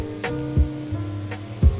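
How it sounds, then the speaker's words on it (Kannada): Food frying in a pan during Indian home cooking, a steady low sizzle with a few brief louder bursts as it is stirred, close by with no voices. "ಇದನ್ನು ಫ್ರೈ ಮಾಡುವ"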